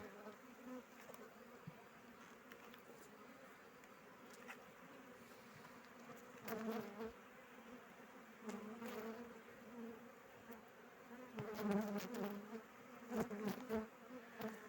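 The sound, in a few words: honeybees buzzing in an open beehive during inspection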